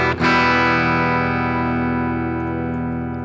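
Electric guitar played through a Boss GT-1000 Deluxe amp model into a Twin cabinet simulation, with no EQ or reverb: a single strummed chord struck sharply, then left to ring and sustain, slowly fading over about three seconds.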